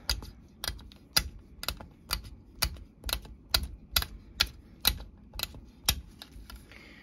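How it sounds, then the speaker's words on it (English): A blade chopping polymer clay into little chunks, a steady series of sharp clicking cuts against a hard surface, about two per second, close and crisp, with no talking. "I'm going to take that last piece that I talked about and I'm going to cut it into little chunks, so chippy choppy"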